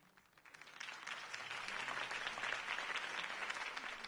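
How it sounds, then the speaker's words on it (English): A crowd in Batman: The Telltale Series applauds after a campaign speech. The clapping is faint and distant, swells in after a quiet start, then holds as a steady, dense roar. "could have heard that applause"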